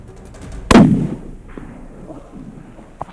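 A single sharp rifle shot fired at an elk during a hunt in New Zealand, loud and close, with a rolling outdoor echo trailing off and a faint crack of impact moments later.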